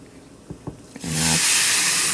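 Water poured onto jasmine rice in a hot pot sets off a sudden loud, sustained hiss of steam and sizzling, preceded by a few light knocks and a brief hum.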